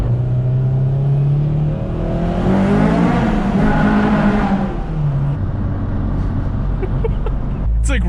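Honda JDM K24A four-cylinder engine revving hard in a car, climbing steadily in pitch, holding near the rev limiter, then dropping back, loud and close, with brief speech underneath.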